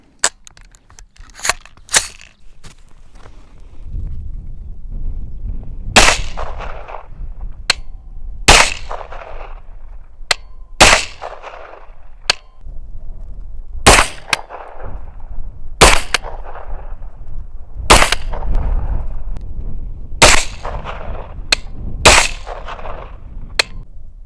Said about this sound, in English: I'm just gonna go ahead and start sending some rounds downrange